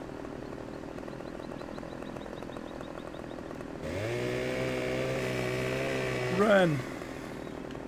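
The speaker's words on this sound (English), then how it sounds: "then we run with a loaded chainsaw" A chainsaw in Farming Simulator 2015 kicks in abruptly and drones at a steady pitch for a couple of seconds, then revs sharply before cutting off, after a stretch where a voice speaks over quieter game sound.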